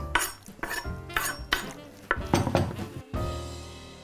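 Fresh sage chopped roughly with a knife for vegan stuffing, a series of about five close rhythmic chopping bursts with rustling between, then a steadier smooth sound at the end.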